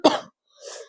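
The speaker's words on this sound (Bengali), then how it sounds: "কাশি হচ্ছে।" A single sharp, close cough, followed by a softer throat-clearing rasp a moment later.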